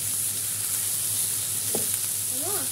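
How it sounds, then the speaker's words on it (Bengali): Homegrown spine gourd (kakrol) and potatoes fry in a pan with a steady, fairly loud sizzle throughout, and a couple of faint bird chirps cut through near the end. "এটা কিন্তু গাছের কাঁকরোল দিয়ে আলু দিয়ে ভাজি করতেছি"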